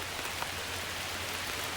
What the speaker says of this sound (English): it's Friday, it's raining,